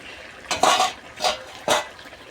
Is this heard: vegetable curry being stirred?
yes